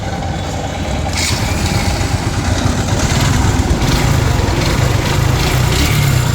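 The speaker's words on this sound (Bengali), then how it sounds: "এবার বাইকটির সাউন্ড শোনেন" A matte black Suzuki Gixxer motorcycle with a badly damaged engine runs close by, its motor giving a loud, steady, rough drone that holds throughout without a break.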